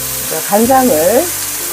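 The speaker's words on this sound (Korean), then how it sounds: "이렇게 조금 볶아주다가 설탕에 약간 단맛이 스며들면 맛이 되게 좋아요" Lotus root stir-fries in a pan with sugar and cooking oil, giving a loud continuous sizzle. A brief voice-like tonal sound rises and falls over it in the middle.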